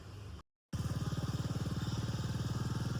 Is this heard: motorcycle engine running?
yes